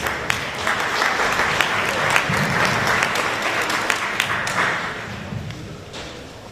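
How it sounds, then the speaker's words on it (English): An audience at a Department of Defense public meeting applauds the Assistant Secretary of the U.S. Air Force, a dense, steady wash of clapping from many hands that holds for several seconds, then thins and tapers off. "Let's give him a round of applause."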